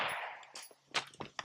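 Suppressed gunshot from a rifle fitted with a CAM556 MAX Jaguar silencer, a single round rounded pop followed by a few short sharp reports and clanks, fairly quiet and close with no talk.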